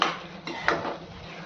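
Chicken pieces being mixed with spice masala in a pan for sukka chicken, two quick metallic scrapes and clanks of a spoon against the pan in a short burst.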